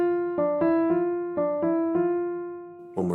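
An ear-training melodic pattern beginning on mi, played as a series of clear, sustained single pitched notes in a steady rhythm, about seven tones, fairly close, ending on a sharper attack, with no speech.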